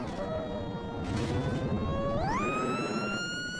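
An ambulance siren wailing steadily in BeamNG.drive, its tone sliding upward partway through, loud and close over a rumbling engine.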